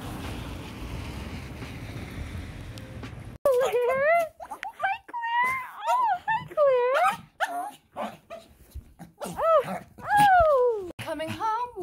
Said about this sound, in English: Coming home when you have a dog.